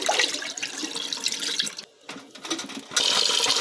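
Rice being washed by hand in a bowl of water, with continuous swishing and splashing, a brief lull midway, then a louder sloshing burst.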